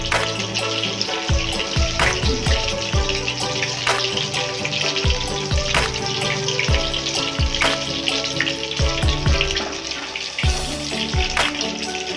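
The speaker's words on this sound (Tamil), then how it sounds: "நல்லா கோல்டன் ப்ரௌன் வர வரைக்கும் எண்ணெய் வேகணும்." Mealmaker kola urundai balls deep-frying in hot oil, giving a steady close sizzle with scattered pops and crackles that keeps up alone throughout.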